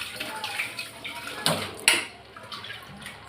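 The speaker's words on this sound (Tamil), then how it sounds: "கொஞ்சமாக தண்ணி ஊற்றிக்கிறேன்." A small splash of water poured into a pot of bottle gourd sambar in a home kitchen, a brief close trickle with a couple of sharper clinks, over quiet room noise.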